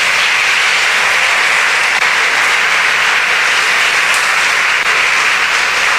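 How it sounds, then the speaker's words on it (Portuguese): Loud, dense applause from a large church congregation, a steady continuous roar of clapping with no voices over it. "Dê um aplauso ao Senhor."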